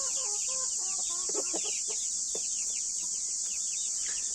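Chickens and roosters with young chicks gathered under one hen, giving a run of quick clucks and chirps up close, then fading into a constant high hiss.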